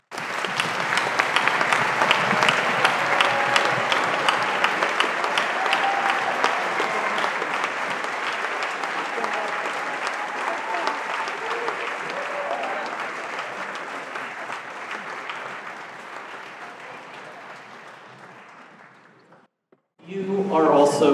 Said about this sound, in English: Please join me in a round of applause for their efforts.